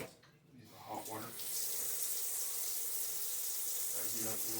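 Hot water runs steadily from a kitchen tap into a sink during hand-washing of smoothie-making equipment, a broad continuous rush that starts after a brief quiet moment and holds steady close by.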